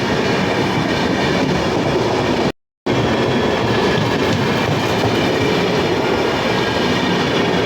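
The Ranchi–New Delhi Rajdhani Express rushes past at close range, a loud, steady roar of wheels and carriages with rhythmic clatter running throughout and a brief cut of silence partway through.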